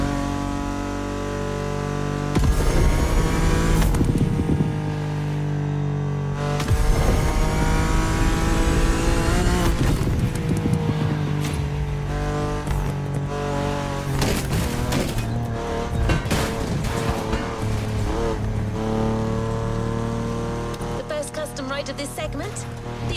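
Acura NSX supercar engine revving in the racing video game The Crew Motorfest, loud, repeated surges that climb and fall in pitch with strong engine tone and gear-change breaks, while a voice talks over parts of it.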